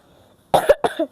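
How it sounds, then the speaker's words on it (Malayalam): Two sharp coughs close together, fairly loud and near, after a quiet moment with no talking. "ചുമക്കണില്ലേ"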